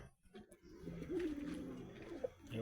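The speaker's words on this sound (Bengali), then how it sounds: "ম্যাড্রাস আন্ধ্রা কোয়ালিটির পায়রা বন্ধুরা" Madras Andhra pigeons in a breeding loft give low, soft coos that run continuously and faintly through the clip, with a light rustle behind them.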